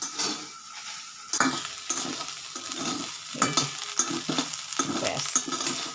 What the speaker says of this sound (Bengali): আর বেশি ভাজবো না গো এবার উঠিয়ে নেব